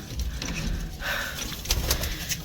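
Pigeons on a sunny rooftop coo softly and flutter nearby, giving low murmuring calls and scattered light rustles and taps in open outdoor air.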